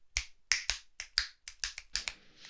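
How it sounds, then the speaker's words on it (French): Finger snaps in a lively, steady rhythm, about nine crisp, close snaps over a few seconds, with no talking. "se limite à des claquements de doigts égayés"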